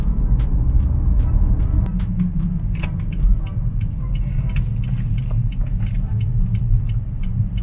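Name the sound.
four-cylinder car engine heard inside cabin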